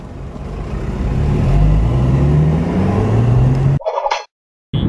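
A car drives along Sydney roads, its engine note rising steadily under steady road noise before cutting off abruptly near the end.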